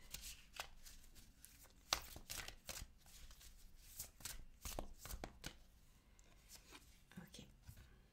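A slightly sticky, long-unused deck of cards being shuffled by hand, a series of soft riffles and taps close by, quiet, with low speech mixed in.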